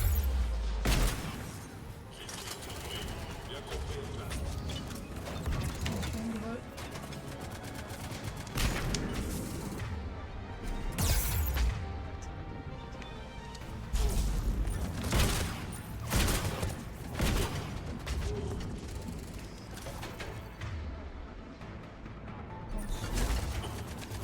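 Turret gunfire in Mass Effect 3 rattles out in repeated loud bursts of automatic fire with booming impacts and mechanical clatter, sustained over a dense combat background.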